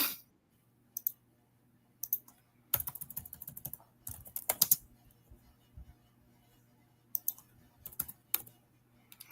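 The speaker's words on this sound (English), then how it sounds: "I suck at typing this." Bursts of typing on a computer keyboard, clicking in quick irregular clusters with pauses between, close and fairly quiet, with a steady low hum underneath and no talking.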